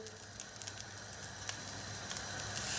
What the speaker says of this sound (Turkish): Yine de köfteleri atmaya başlayacağım. Özellikle bu tavada pişiriyorum.